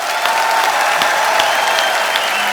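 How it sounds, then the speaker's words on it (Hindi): A studio audience at a TV comedy show gives loud, sustained applause welcoming a Padma Shri Sufi singer, an even wall of close clapping with no speech. "मैं चाहूंगा कि जोरदार तालियों से एक बार स्वागत किया जाए"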